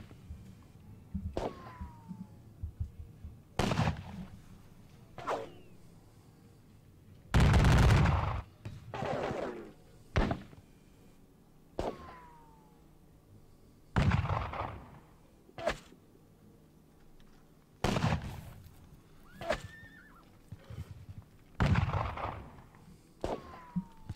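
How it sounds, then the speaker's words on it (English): Musket fire from skirmish units in the Napoleonic Battles wargame at Leipzig, with separate volleys and cracks spaced a few seconds apart over about twenty seconds, some sharp and some rolling, at moderate volume. "It's going to be a lot of firing from those skirmishes."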